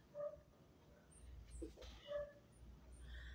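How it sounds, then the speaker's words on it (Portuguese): A dog barks a few times nearby with soft whimpering yips between, fairly faint against a low background hum. "é o cachorro que late ali"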